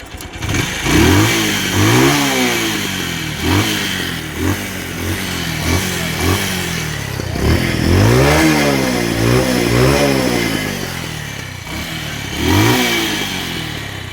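A Bajaj Pulsar 150 DTSi motorcycle engine revs loudly and close by in repeated bursts of throttle, rising and falling between an idle, with no talking.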